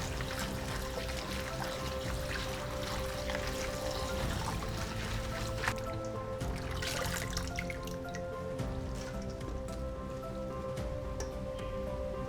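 Roselle is washed under running water, with steady splashing, pouring and dripping that continues close and fairly loud throughout, with no speech.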